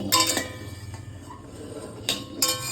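A utensil stirs food in a pan on a gas stove, with a few sharp metallic clinks and scrapes, close and spaced out over a quiet background.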